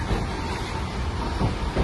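An Alexandria tram runs along its rails with a steady, dense rumble and rattle, close and continuous throughout with no voices.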